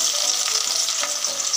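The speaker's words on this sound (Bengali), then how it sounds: "ওই একই তেলের মধ্যে আমি কিছু পেঁয়াজ ভেজে নিচ্ছি" Onions frying in oil, left over from earlier frying, to make crisp fried onions for mutton korma, a dense continuous sizzle and crackle with small stirring scrapes, close and alone without any voice.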